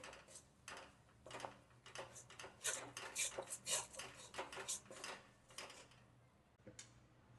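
Gram flour mixture is stirred in a pan, a spoon clinking and scraping against metal in quick irregular strokes, fairly faint and close, without speech.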